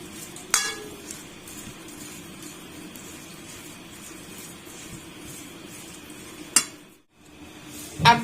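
Pakora ingredients are mixed together by hand in a bowl, giving a soft, steady rustle with a couple of sharp knocks against the dish near the start and end.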